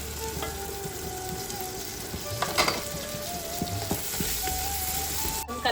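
A ground spice paste with tomato sizzles and crackles in a hot pan for chicken pulao, a steady close frying hiss with occasional stirring scrapes and no voices.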